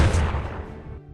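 A gunshot in an action film scene, fired at a target lying on an operating table: a loud, broad blast at the start that decays with a rumbling tail over about a second, no voices.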